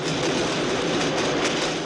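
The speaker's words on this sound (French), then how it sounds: "le désagrément provoqué par le passage du métro" A metro train rumbles past steadily, with a dense roar and a faint rhythmic clatter of wheels, no voices.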